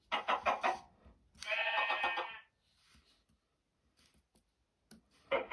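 A video game chicken clucks and squawks in a few loud, close bursts separated by quiet gaps, with faint clicks in between.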